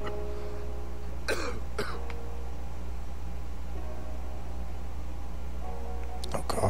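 A game character gives a few short, dry coughs in The ABC Murders, two close together then one more after a pause, over a steady low hum.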